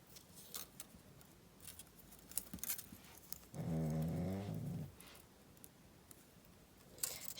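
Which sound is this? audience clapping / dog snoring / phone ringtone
dog snoring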